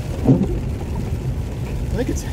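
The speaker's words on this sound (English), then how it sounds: "I think it's hail and snow from what I can tell." Hail and snow patter against a car driving through a January ice storm, making a steady gritty rush of impacts under road noise. Someone speaks briefly nearby.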